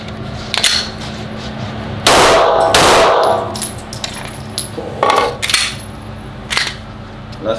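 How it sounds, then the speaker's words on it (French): Two handguns fired akimbo, one in each hand, at a target 5 metres away, heard as sharp bursts of loud, close shots around the two- to three-second mark, with scattered clanks and smaller impacts before and after. "Donc, tir à 5 mètres avec une main."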